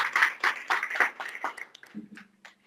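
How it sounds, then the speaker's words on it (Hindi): Audience clapping at a church gathering in Pakistan, heard as several loud, rhythmic bursts of claps that thin out and fade, followed by a brief low tone. "जोरदार तालियां बजाएं."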